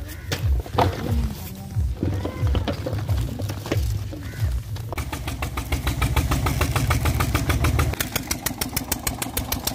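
A tractor engine idles steadily at a village jaggery works while the tractor is loaded with sugarcane, a low continuous rumble with clattering and knocking sounds over it, and the engine note becomes a regular pulsing in the second half.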